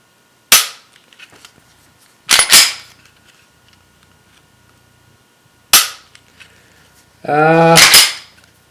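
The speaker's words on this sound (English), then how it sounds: "Give it a function check here. Pull that trigger again in a safe direction." A Glock pistol, modified with a plunger and 3.5 lb connector, gives sharp isolated trigger clicks during a function check: single snaps near 0.5 and 5.7 seconds, a quick double near 2.4, and a louder sustained rattle near the end.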